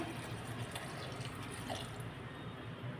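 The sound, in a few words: water poured into blender jar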